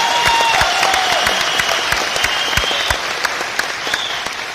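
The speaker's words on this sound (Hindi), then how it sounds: "तो आप सब अचीवर्स के लिए एक जोरदार ताली।" Loud, sustained applause from an audience honouring achievers at a 2017 company event, dense clapping filling the whole stretch with a few sharper claps and faint whistles on top.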